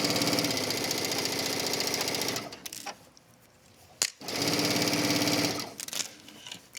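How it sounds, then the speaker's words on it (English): A sewing machine runs a straight stitch down a wrap dress in two loud, steady bursts, each about two seconds long, separated by brief pauses and small handling clicks. "I'm gonna go back just to a straight stitch. Stitching down."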